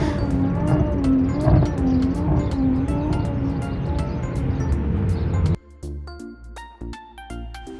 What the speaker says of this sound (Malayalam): അവിടെ 5-6 വണ്ടികൾ ഈ ഒരു വെളുപ്പിന് സമയത്തും റൈഡ് ചെയ്യുന്നുണ്ട്